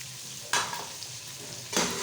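Masala paste frying in hot oil in a pot for Degi aloo gosht, with a steady low sizzle broken by two louder bursts of stirring and spattering.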